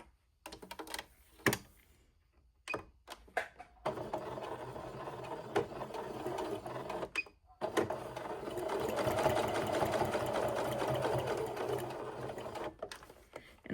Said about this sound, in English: going to just sew down this edge, 1/4 inch seam allowance